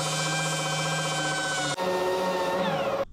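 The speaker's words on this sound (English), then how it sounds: "Hit it with some 80 grit on a DA." A dual-action sander with 80 grit sandpaper works a car door while shaving its handles, giving a loud, steady, high whine with a brief dip midway before it cuts off.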